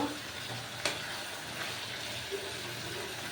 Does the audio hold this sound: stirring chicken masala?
yes